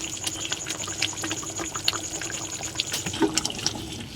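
Mustard oil goes into a pan while fish cooks, giving a steady close sizzle and fizz with scattered crackles and pops over several seconds.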